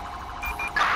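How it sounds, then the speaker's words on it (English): A police car siren wails in the video game GTA 5, a loud, close electronic tone stepping up in pitch across one second. "can you just not run the siren the entire time?"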